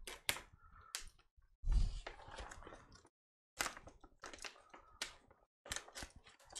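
Very durable paper wrapping on a mailed package is cut and hacked open up close, giving bursts of scraping, tearing and crinkling broken by short silences.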